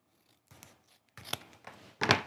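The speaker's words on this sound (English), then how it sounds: "I'm going to cut some foam tape to sit on top of the thread, but not be visible" Scissors snip through foam tape in a few short, close cuts, with faint rustles in the gaps and a louder final snip near the end.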